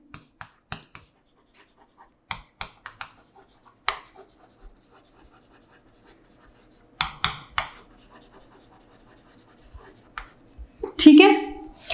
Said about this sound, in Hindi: ऐसा यूनिट मैं इसको प्रॉपर तरीके से लिख देती हूँ जिससे आप लिख सकें।